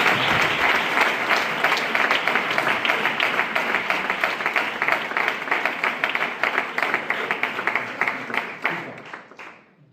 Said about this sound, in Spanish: Recibimos la palabra con un fuerte aplauso para el Señor.